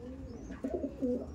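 A female Andhra pigeon gives soft, low coos in a short run of two or three throaty pulses, close by and clear over faint background noise.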